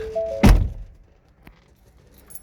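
A single solid mechanical thunk, like a car's locks engaging, followed by a faint click about a second later, then quiet.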